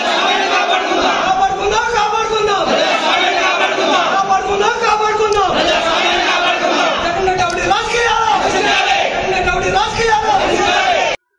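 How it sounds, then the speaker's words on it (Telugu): Crowd packed inside a municipal office during a disrupted vice-chairman election, shouting and chanting slogans in loud rhythmic waves of voices that rise and fall repeatedly without pause. "కేకలు, నినాదాలతో మారుమోగింది"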